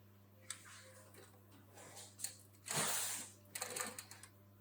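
A sewing machine with a walking foot stitches fabric in a few short, uneven bursts, the loudest near the middle, over a steady low electrical hum with quiet pauses between runs.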